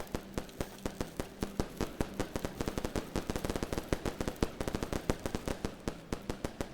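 In the video game Animal Well, a thrown firecracker goes off in a rapid, crackling string of sharp pops that speeds up in the middle, steady and moderately loud with no talking.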